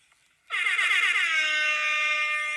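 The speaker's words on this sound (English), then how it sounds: "Let me play my air horn again, please." A loud, sustained air horn blast starts abruptly after a brief quiet moment and holds steady with bright, brassy harmonics until the end.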